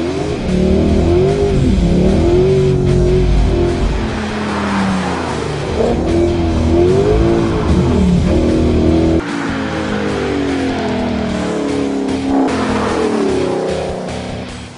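A tuned rear-wheel-drive car making about 326 kilowatts at the wheels revs hard on a wet track, its engine roaring loud and close with rising and falling pitch sweeps, a brief dip midway, then climbing again.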